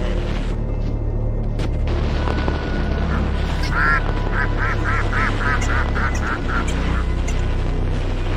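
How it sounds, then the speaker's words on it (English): Ducks quacking in a rapid run of bursts over a loud, constant low rumble, with a voice calling out excitedly. "The ducks! The ducks!"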